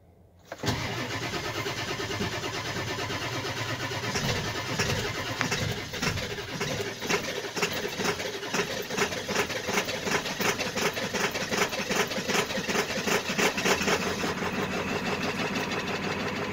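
A 7.3 diesel engine in a flatbed truck cranks briefly, catches and settles into a loud, steady idle with a rapid rhythmic clatter, recorded close with no talking.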